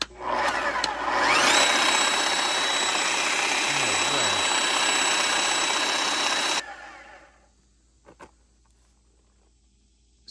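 A jackhammer powered from a Victron Phoenix 12V inverter installed in a truck starts up and hammers loudly and steadily for about six seconds with a high whine, then cuts off abruptly into near silence with a few faint knocks.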